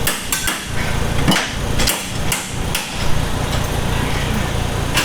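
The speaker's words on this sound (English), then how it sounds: "Hit that side with the hammer." Sharp metallic hammer blows strike a drift car about every half second at Formula Drift New Jersey, against a constant engine rumble, loud and close.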